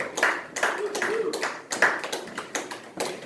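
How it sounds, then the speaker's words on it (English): Thin, scattered audience applause at a comedy show, a handful of nearby people clapping unevenly in loose bursts with gaps between, fairly quiet overall. "Man, that's some weak ass applause for"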